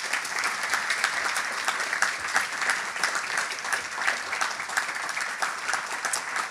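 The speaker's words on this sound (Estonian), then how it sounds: "Palun ka neile suurt aplausi." Applause for class teachers fills a school ceremony hall for ninth graders, even sustained clapping from a sizable audience, moderately loud and unbroken throughout.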